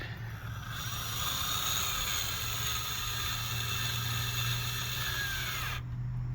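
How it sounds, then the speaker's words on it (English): A handle being tightened on a frostproof sillcock during plumbing work, heard as a steady mechanical whir with faint ratcheting and metallic friction, close and continuous for several seconds before stopping abruptly. "And then just tighten your handle up."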